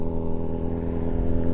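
Motorcycle ridden slowly by a new rider, its engine holding a steady low putter and mid-range hum at close range, with no voices over it.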